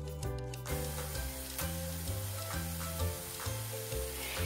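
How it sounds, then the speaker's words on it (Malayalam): Masala-coated paneer pieces fry in oil in a pan with a loud continuous sizzle, broken by a clear rhythmic pulsing pattern and some scraping at the start. "ഞാൻ അതിനകത്തോട്ട് ഈ പനീർ നമ്മൾ മസാല തേച്ചതെല്ലാം ഫ്രൈ ചെയ്യാനായിട്ട് പെറുക്കിയിടുക."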